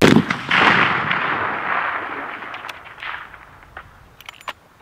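A long-range rifle shot fired at a target on a shooting range cracks loudly at the start, its report rolling away and echoing across open ground for several seconds, followed by a few faint clicks.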